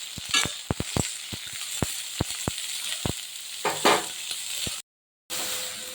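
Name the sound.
stirring pumpkin and eggplant frying in a pan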